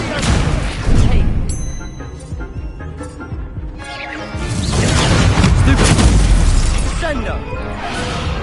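Incendio fire spell cast during combat in Hogwarts Legacy, loud booming bursts and crashing impacts layered with shattering debris and whooshes, amid dense battle effects and voices calling out.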